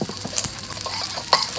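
Garlic and shallot leaves fry in a hot wok with a continuous close sizzle, along with patters and scraping stirs from a utensil.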